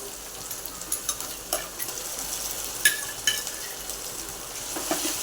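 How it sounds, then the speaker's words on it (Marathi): Ground masala paste being sautéed with cooked tomatoes in a pan for a sprouted moong bhaji. A soft, steady sizzle runs throughout, with light scraping and clinking of a spoon stirring the mixture close by. "हे याच्यामध्ये परतून घेऊया हे छान परतलं गेलं पाहिजे"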